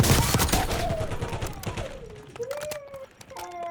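Rapid gunfire crackles in scattered bursts and single sharp reports, some near and some distant, with voices heard between the shots.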